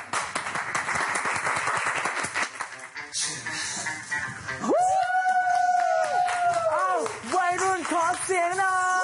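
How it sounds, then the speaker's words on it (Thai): A studio audience at a Thai singing-contest show claps and cheers for contestant CD, a dense roar of applause and whoops that gives way halfway through to a loud sustained singing voice over music. "ขอเสียงปรบมือให้กับซีดีครับ"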